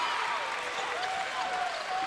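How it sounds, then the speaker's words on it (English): Restless basketball crowd of Pacer fans in a gym at a USC Aiken men's game against Augusta, a steady wash of clapping and murmur with faint whistles or shouts, moderately distant. "this Pacer crowd is definitely getting a little restless here"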